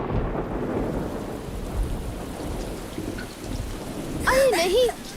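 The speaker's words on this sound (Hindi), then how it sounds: "अरे नहीं, यहाँ तो बारिश शुरू हो गई।" Steady rain pours throughout with a low rumble beneath it, and a brief brighter burst of sound near the end; no voices.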